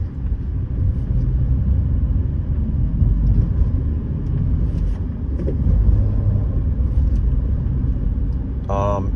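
Inside a 2022 Renault Duster with a manual gearbox, the engine hums as a low, steady rumble while driving, accompanied by road noise throughout and a brief voice right at the end.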